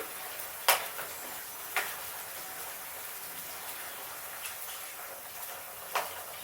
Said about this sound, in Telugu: కొంచెంసేపు వేగనిద్దాం